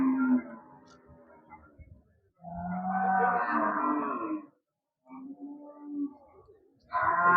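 Cattle at the Melapalayam cattle market in Tirunelveli district moo close by in several long, drawn-out calls separated by short pauses, with faint market background noise and no talk.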